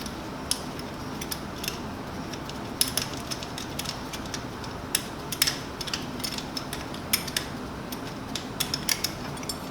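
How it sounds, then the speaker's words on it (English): Bolt being unscrewed from a Mazda Miata valve cover during a gasket replacement, giving faint, scattered metallic ticks and ratchet-like clicks over a steady low background hum. "So I will go ahead and remove this bolt completely."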